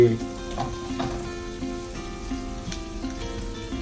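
Spicy duck stir-fry with red curry paste sizzling loudly in a pan, a steady frying hiss with intermittent clatter of stirring throughout.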